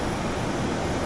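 Dassault Falcon 7X jet noise in a flight simulator, a loud, steady, broadband engine roar that fills the whole moment without change, with no talking over it.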